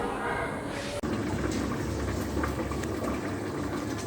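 A rose water distillation pot heats on a stove, giving a steady close bubbling and hissing of boiling liquid with a brief break near the start.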